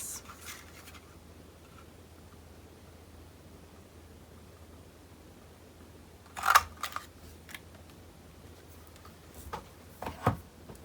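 Scissors snip through a round paper piece being cut out for a craft model, giving a few short crisp cuts in a quiet room with no talking.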